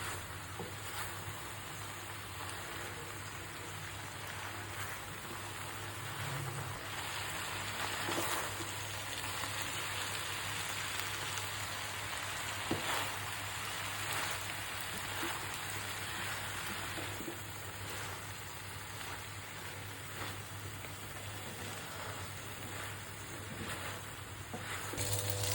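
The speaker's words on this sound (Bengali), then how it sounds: "এই সবজি শুটকিটা বেশি করে একটু কষাবো" Dried loitta fish with vegetables sautés in oil, giving a faint, continuous crackling sizzle with a low steady hum beneath, heard close and quiet throughout with no talk.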